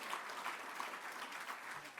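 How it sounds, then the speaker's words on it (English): An audience at a national service awards ceremony gives a brief, even round of applause, heard quietly and from some distance. "please give her the round of applause for a lifetime of service."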